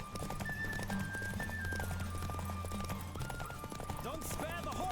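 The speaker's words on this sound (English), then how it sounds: "Don't spare the horse!" Horse galloping in The Witcher 3 video game, a rapid steady clip-clop of hooves close by under a continuous musical score, with a brief whinny near the end.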